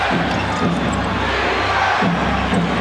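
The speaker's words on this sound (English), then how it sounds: "Chant of defense from the Garden crowd" Madison Square Garden fans chant "defense" during a 1997 Bulls versus Knicks basketball game, a steady rhythmic crowd roar filling the arena under constant hubbub, with faint sneaker squeaks.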